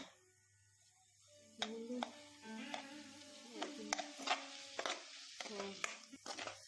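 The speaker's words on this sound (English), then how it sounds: "First we are going to saute these mushrooms and broccoli and a little bit of coriander leaves that I've got" Mushrooms, broccoli and coriander leaves for cream of mushroom soup sautéed in a pan, with scattered clattery knocks and scrapes of a spoon against the pan and a faint sizzle, close and intermittent after a quiet opening.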